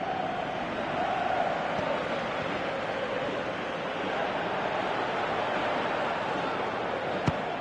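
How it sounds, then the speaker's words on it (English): Football stadium crowd at a Galatasaray vs Beşiktaş match, a dense, continuous roar of thousands of fans that swells slightly and holds steady, with one sharp crack near the end. "you can feel and hear how the crowd are reacting to all of this"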